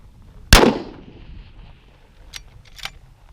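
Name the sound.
sniper rifle shot at 1500 meters in shooting competition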